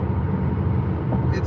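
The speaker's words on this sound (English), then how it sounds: "I've spoken at length about the noise level in this car." Steady broadband road and cabin noise inside a Tesla Model X Long Range cruising on the highway, a continuous low rumble with hiss from start to finish and no speech.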